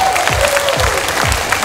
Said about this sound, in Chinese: 所以请现场的观众把掌声再次送给他们